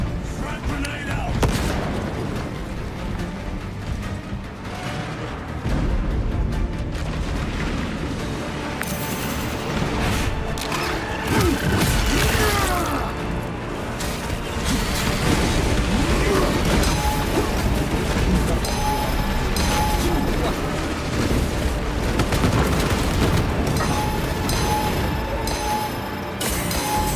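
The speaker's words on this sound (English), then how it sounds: "Frag grenade out!" Warhammer 40K game battle, dense and loud, with booming explosions, a frag grenade blast among them, over constant gunfire and crashes, with voices shouting at times.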